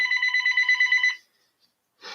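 A telephone bell rings in a rapid trilling burst for about a second and then stops, followed by silence and a brief noise at the end.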